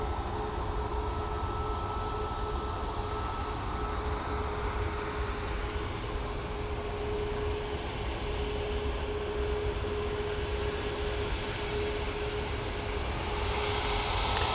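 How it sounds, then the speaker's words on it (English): A Ryanair jet at Manchester Airport produces a steady, moderately distant engine rumble and hiss with a faint whining tone, continuous and unchanging with no talking. "this Ryanair's coming on in front"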